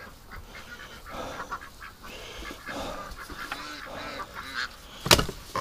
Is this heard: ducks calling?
yes